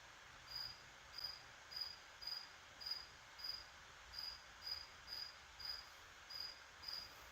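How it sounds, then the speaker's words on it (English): Cricket chirping in short, evenly spaced bursts, about a dozen trills in steady rhythm over a faint, hushed background, fairly quiet and alone with no voices. "That doesn't even sound like a normal cricket to me."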